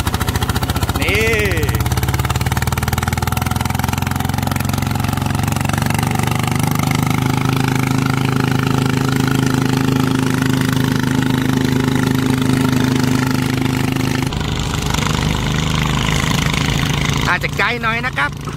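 A vehicle engine runs loud and steady for most of the stretch, its pitch climbing gradually as it is pushed toward full throttle, then dropping off near the end.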